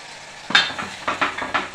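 Malvani masala and ground coconut paste are stirred in a cooking pan with a spoon, giving a series of short, close scraping strokes in an even rhythm over a faint sizzle.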